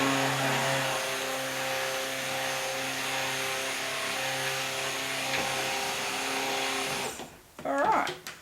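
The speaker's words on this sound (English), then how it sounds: "we are going to do some more stick blending" A stick blender whirs loudly and steadily while mixing orange soap batter made with real juice and orange peel powder, cutting off near the end and followed by brief clattering handling sounds.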